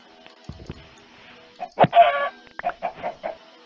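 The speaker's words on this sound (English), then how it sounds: "There's a chicken." Chicken clucking in Minecraft, a run of short, clear clucks in a quick burst followed by several evenly spaced clucks, close and moderately loud against faint background sound.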